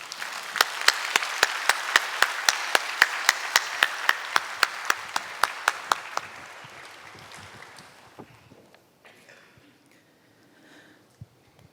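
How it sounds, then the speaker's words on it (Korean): A church congregation at Sunday service claps to welcome a testimony speaker: about two dozen loud, evenly spaced claps in unison, then fading into quiet room murmur. "우리 공성원 권사님 나오실 때 박수로 맞이해 주시길"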